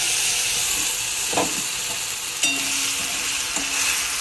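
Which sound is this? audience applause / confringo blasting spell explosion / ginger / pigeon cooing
ginger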